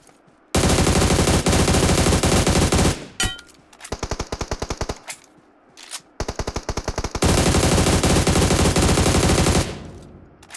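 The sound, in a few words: gunfire from a gun in the video game BGMI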